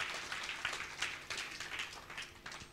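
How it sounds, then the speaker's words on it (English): Congregation clapping hands together at a church miracle rally, a faint, fairly rhythmic patter of many hands heard from a distance, steady for a few seconds. "Let's clap our hands to our Lord Jesus Christ."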